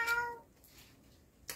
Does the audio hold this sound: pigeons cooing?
no